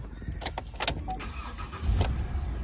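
A 2019 Chevrolet Trailblazer 2.5 LT SUV with automatic transmission comes to life, a steady low engine rumble filling the clip with a few sharp clicks and a louder surge near the end, close and with no talking.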